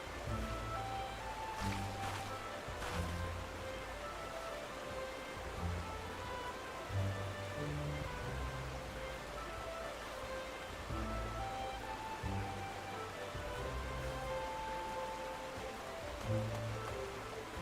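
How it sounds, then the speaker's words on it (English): Faint, steady rainfall in Final Fantasy XIV played in VR, a soft continuous hiss of drops heard quietly under gentle tonal game music, with no one speaking. "I'm looking at the raindrops, like, right here."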